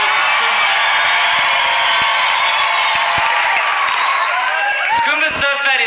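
A comedy-show audience claps and cheers for the comedian Skumba, a dense, loud wall of applause with whoops that keeps going and begins thinning near the end.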